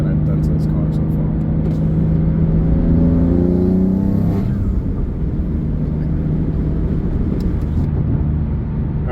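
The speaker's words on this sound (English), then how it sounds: "I don't know if you can pick up the turbo sounds" Engine and turbo sound from a modified BMW F80 M3 on the road, a steady rumble with a rising rev sweep around the middle, loud and close, while a person talks over it.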